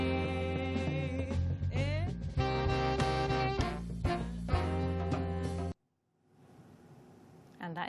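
An Afrobeat band plays loud, layered music with drums, bass and horns in a busy rhythm, then cuts off abruptly into near silence before a faint background returns.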